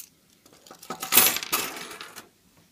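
A bunch of metal keys on a key ring, alongside a small key knife, gives a short bright jingle of rattling clinks lasting about a second, close and clear against silence.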